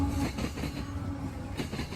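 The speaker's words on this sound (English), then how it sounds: "Let's begin with a normal modern freight train." A mixed manifest freight train led by two GE AC44CW locomotives rolls past, a continuous heavy rumble with rhythmic wheel clatter over rail joints, loud and close for a brief moment.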